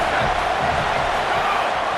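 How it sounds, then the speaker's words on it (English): A steady wash of stadium crowd noise roars through a college football game in EA Sports College Football 27. It holds at an even, loud level without a break, with a faint commentary voice mixed in. "This crowd bringing the energy and noise early"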